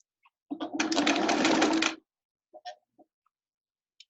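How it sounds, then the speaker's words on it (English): A sewing machine stitches the curve of a scrub cap at about 20 stitches to the inch: one close, steady whirring run of roughly a second and a half, followed by a few small clicks. "about 20 stitches to the inch, and then sew the curve"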